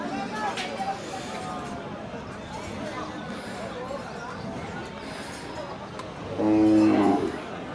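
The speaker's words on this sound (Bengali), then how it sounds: "এটা হলো মহিষ" A water buffalo at a cattle market in Hazratpur lets out a loud, drawn-out low near the end, over a steady murmur of crowd chatter and nearby talking.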